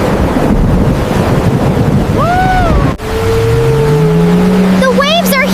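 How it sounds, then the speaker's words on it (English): Heavy ocean surf and strong wind roar loudly and continuously in a hurricane at sea, with tonal voice-like sounds rising over the noise in the second half. "The waves are huge!"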